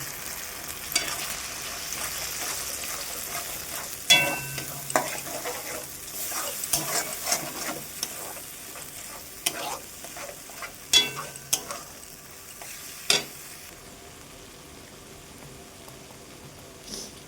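Paste of ginger, garlic, cumin and green chilli sautéing in a pan, a steady soft sizzle with scattered scrapes and taps of a stirring spoon, fairly quiet and continuous.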